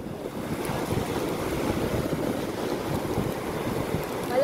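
Pacific Ocean surf rolling in at Bagasbas beach, a steady dense wash of breaking waves with gusty wind noise on the microphone, continuous and fairly loud with no one talking.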